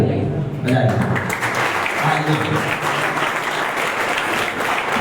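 Loud, sustained audience applause at a talent award ceremony, a steady clatter of many hands, briefly overlapped by a voice at the start.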